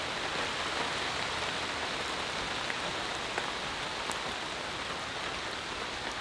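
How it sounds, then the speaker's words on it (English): Heavy rain pours steadily through a warm, humid forest, a dense continuous rushing hiss with scattered louder drop impacts, close and enveloping throughout with no voices. "It sounds like heavy rain is moving through the forest."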